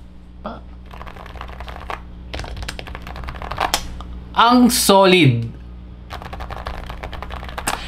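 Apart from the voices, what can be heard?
Varmilo Sword 68 mechanical keyboard typing, spacebar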